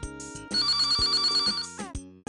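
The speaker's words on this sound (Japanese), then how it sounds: "お電話ですね。" A telephone rings in the video game Eve Burst Error, with a bright electronic bell trilling in a steady burst over a simple synth backdrop, then cutting off.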